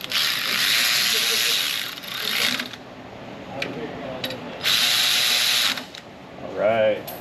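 A hand ratchet clicks rapidly in bursts while tightening the brake caliper bolts on a Ford, two loud runs of clicking separated by quieter handling noises in a garage.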